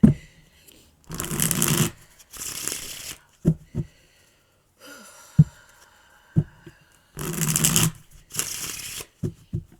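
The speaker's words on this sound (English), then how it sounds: "And now I'm going to cut the deck." A deck of cards is shuffled in several loud riffling bursts, separated by quieter taps and clicks as the deck is cut and squared, with no speech.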